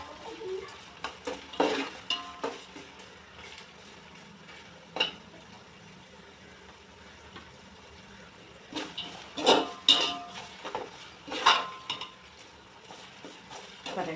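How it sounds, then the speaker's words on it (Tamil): Mint leaves stir-fried in a pan for mutton biryani, with metal spoon scrapes and clatter over a soft sizzle, in bursts of scraping stirs close by. "புதினா போட்டாச்சு. போட்டு அதை நல்லா வதக்கிடுங்க."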